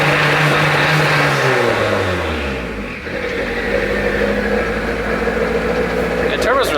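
A turbocharged Honda Civic engine revs up and drops back toward idle in a sweeping pitch fall, then holds a steady mid-range drone with a brief whine near the end, loud and close.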